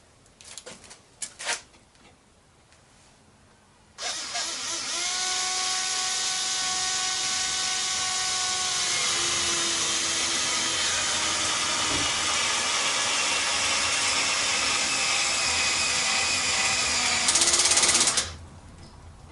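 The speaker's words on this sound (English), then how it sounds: "let's drive some screws and see what happens" A cordless drill drives screws, a brief clatter first, then a long steady whirring drive at high pitch for about fourteen seconds that stops abruptly, with no talk.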